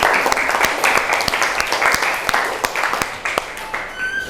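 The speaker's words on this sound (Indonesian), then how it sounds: "kasih aplaus untuk temannya" Classmates in a school classroom applaud after a presentation, giving a lively burst of clapping from a group that lasts a few seconds and then tapers off.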